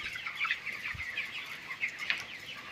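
Broiler chickens in a poultry farm, about 25 days old, chatter and cluck together in a steady, dense flock murmur with a few sharper calls rising above it, and no voices.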